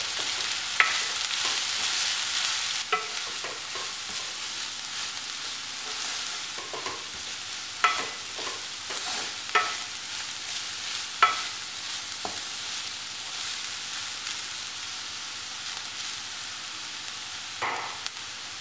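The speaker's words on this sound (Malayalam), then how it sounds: "നന്നായിട്ടൊന്ന് ഇളക്കാം." A spatula stirring banana flower thoran in a pan, producing scraping and soft sizzling with sharp clacks of the utensil against the metal at irregular intervals, close and moderately quiet, no voices.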